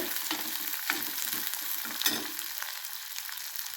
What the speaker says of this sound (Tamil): கொஞ்சம் வெங்காயம் அந்த வெங்காயத்தை ஒரு கிண்டு கிண்டி விட்டுட்டு